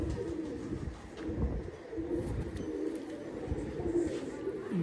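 Pigeons coo close by in a steady, overlapping chorus of soft, rounded, throaty calls that goes on without a break.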